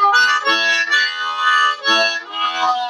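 Harmonica played through a Silverfish bullet microphone with the hands open rather than cupped, giving a bright, sharp, reedy tone; a few loud sustained chords and bends in close succession, alone with no talk.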